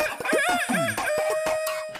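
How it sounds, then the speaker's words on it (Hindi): A rooster crows close by with a long, rising and falling call, mixed with clucking from other fowl. "मुर्गे की बांग"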